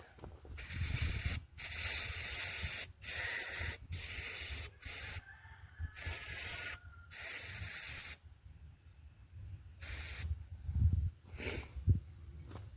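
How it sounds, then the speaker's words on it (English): Bursts of pressurized spray hiss on and off in uneven intervals, loud and close, washing a Craftsman lawn mower on a truck, with brief pauses and clunks between them. "Spray the crap out of this thing. I'm gonna spray it off the truck."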